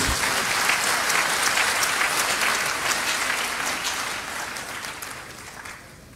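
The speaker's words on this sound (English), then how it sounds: "Please applaud Professor Mrs. Rita Akosua Dixon." Loud applause from a large crowd at a university graduation ceremony, steady at first and then slowly fading over several seconds, with no talking.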